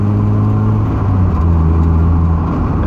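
A 1990 Mazda Miata cruising, heard from inside as a loud, steady engine drone with road rumble and a slight shift in pitch partway through.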